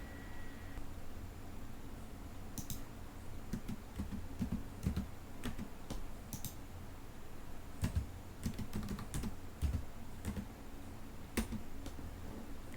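Fingers type a username and password on a computer keyboard, with irregular, fairly faint key clicks in uneven bursts and no voices.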